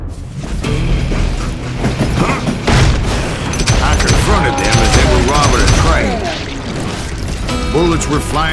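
Gunfire rings out in a frontier shootout in Call of Juarez: Gunslinger, loud and busy, with bursts of shots and clattering mechanical gun sounds mixed among other game effects throughout.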